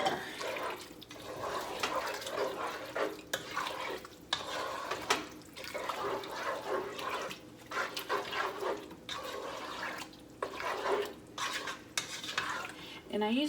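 Continuous scraping and sloshing of a utensil stirring Kraft macaroni in an egg and milk mixture in a dish, thick and wet, rhythmic and close, with no voices.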